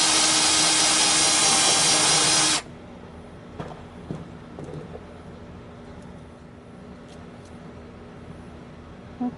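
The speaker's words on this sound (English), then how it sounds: "I'm going to start drilling the holes" A power drill with a 5/16 inch bit bores into a golf ball, a loud steady whine for a couple of seconds that cuts off abruptly, followed by quiet handling clicks and taps.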